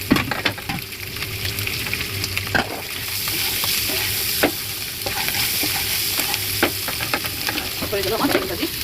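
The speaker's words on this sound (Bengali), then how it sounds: "এই যে আমার ডিম ভাজি করা হয়ে গেল।" Egg frying with spices in a pan, a loud, close crackling sizzle broken by repeated scraping and stirring knocks from a spatula, with no talking.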